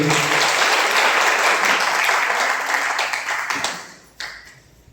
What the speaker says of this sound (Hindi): प्रशांत सर के लिए जोरदार ताली होना चाहिए